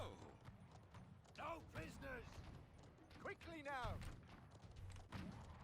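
In a Conqueror's Blade battle, horse hooves clip-clop at a quick gallop amid muffled game noise and faint voice-like calls, fairly quiet throughout.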